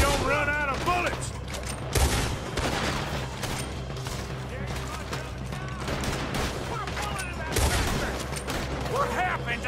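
Sustained shootout gunfire in Red Dead Redemption 2, dense overlapping shots crackling continuously at moderate level, with voices talking over the fight and music underneath.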